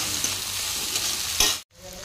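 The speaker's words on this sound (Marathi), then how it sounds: "टमाटर आता मी 2 ते 3 मिनिटे शिजवून घेणार आहे।" Tomatoes cooking in a pan with khaparkhuti wild greens, a close, steady sizzle and frying hiss with a stir or two, ending in a sudden brief silence.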